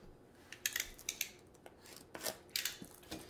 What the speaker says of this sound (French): Je vais prendre mon cutter.